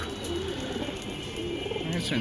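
A pigeon coos in low, soft rolling phrases, faint and close, under a person speaking.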